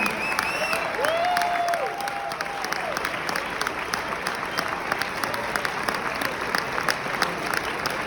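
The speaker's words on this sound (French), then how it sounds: "Tenons-leur une chaleureuse main d'applaudissement pour les encouragements et leur dévouement." An audience at a Chamber of Commerce mentorship event applauds its mentors with sustained, dense clapping that carries on steadily throughout, and a few brief whistles near the start.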